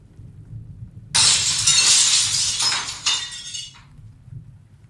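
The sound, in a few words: windows imploding, glass shattering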